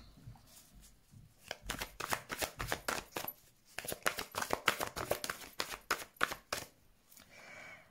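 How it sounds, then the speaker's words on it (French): Tarot cards are shuffled and drawn in quick, crisp riffles and flicks, a close, fairly quiet flurry of papery taps with a short pause midway, with faint speech in the background. "on va tirer quelques cartes pour le domaine sentimental"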